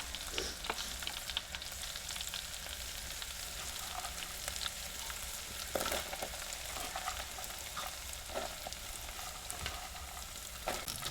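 Okra tossed into a hot pan with garlic and ginger, frying with a steady, close sizzle and faint crackles and stirring scrapes throughout.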